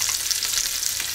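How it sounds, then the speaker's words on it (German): Cod fillet frying in a hot pan, a steady dense sizzle with faint crackles, close and continuous with no voices over it. "Der Fisch nur kurz rundherum gut anbraten, damit er drin noch ganz leicht glasig ist."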